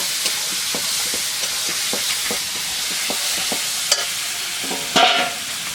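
Salted, turmeric-coated Bombay duck fish and slit green chillies fry in a pan, a steady close sizzle with regular stirring scrapes and a louder clatter near the end.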